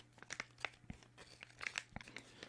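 Crinkling of a plastic gel face mask pouch, a run of close, crisp crackles and short tearing rustles in irregular bursts, with a couple of soft low thumps, quiet and alone.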